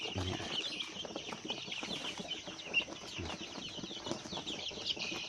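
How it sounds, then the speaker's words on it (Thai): A flock of four-week-old Roman Brown laying hens keeps up soft, continuous chirping and clucking, with faint wing flutters now and then. "ไก่ไข่อายุสี่สัปดาห์นะครับ เป็นยังไงตัวโตขึ้นไหมขน เป็นยังไง"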